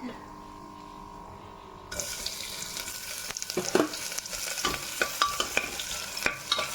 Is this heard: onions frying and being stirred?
yes